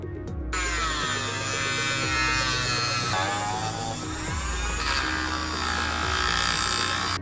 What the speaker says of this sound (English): So we're just gonna cut that off with the Dremel.